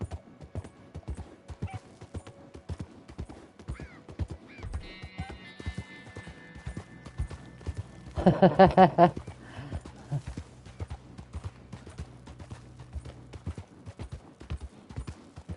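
A horse's hooves clop rhythmically and steadily throughout a Red Dead Redemption 2 ride, with a short burst of horse whinnying in the middle and faint voices and music underneath.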